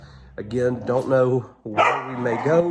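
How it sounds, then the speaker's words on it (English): Dogs bark and yip loudly in two close bursts indoors, heard under a person's speech. "Apologies for the dogs."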